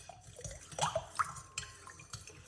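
Water sloshes and drips in a big bowl as baking soda is stirred in, with soft irregular splashes and light clinks at close range.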